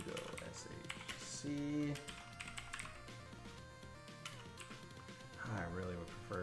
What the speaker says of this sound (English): All right, I'm just going to type it.